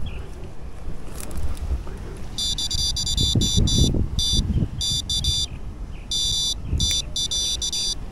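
Repeated high electronic fishing bite alarm beeps in short bursts at a lake, rhythmic and sustained, over low rumbling background noise with some handling sounds.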